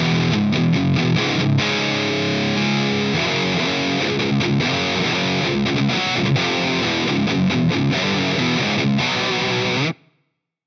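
A humbucker electric guitar tuned to drop C plays a fast, chugging riff through the high-gain distortion channel of a Carvin V3 amp. The tone is loud and dense for about ten seconds, then cuts off abruptly.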